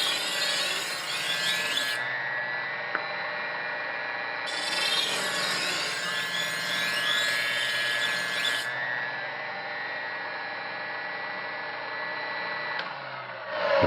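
An electric knife sharpening machine runs at speed 7 as a knife is drawn through the slot in two long, steady grinding passes, a close, thin metallic whine over the motor hum, with no talk.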